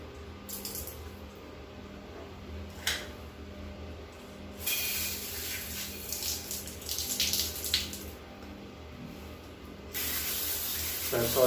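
Running water rinses a stainless steel toilet after cleaner is applied, a steady close wash with louder spray bursts toward the middle and end.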